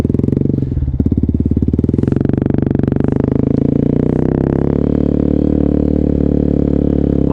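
A 125cc motorcycle engine runs under throttle during wheelie practice, a loud, close, pulsing mid-pitched drone that rises briefly in revs early on and then holds steady.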